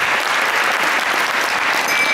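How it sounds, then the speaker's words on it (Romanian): Loud, dense audience applause at a young talents gala concert, a continuous close wash of many hands clapping with no voices over it. "aplauze merită"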